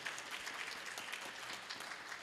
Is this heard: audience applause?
yes